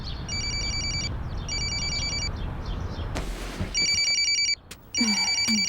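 A telephone rings in repeated electronic trilling bursts, loud and close, over a steady background hum, with a short sharp noise near the end.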